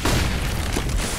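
Loud, dense bursts and booms from grenades going off during a professional Counter-Strike match at DreamHack Open Cluj-Napoca, continuous and crowded with no pause.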